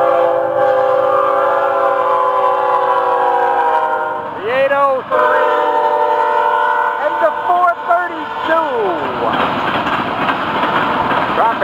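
An FEC freight train locomotive blows its horn in long, loud chords held across the whole stretch, with a brief dip partway through and rumbling train noise underneath.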